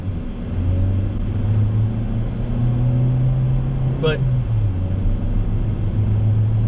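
A steady, low Chevrolet Cruze engine idles continuously and loudly after a transmission replacement, with a brief higher sweep partway through and a single spoken word.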